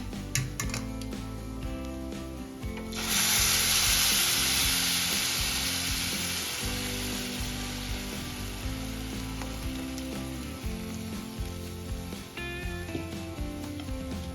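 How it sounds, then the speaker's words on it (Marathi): Freshly grated coconut fries to a light golden colour in a pan for coconut kheer, producing a steady close sizzle that swells after a few seconds, with scraping and clicking from stirring and no talking. "तुम्ही बघू शकता आपल्या खोबरा किसला गोल्डन कलर आलेला आहे"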